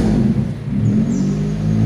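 A warmed-up car engine is revved with the throttle, producing a steady loud low rumble that dips briefly and then swells again, with no talking.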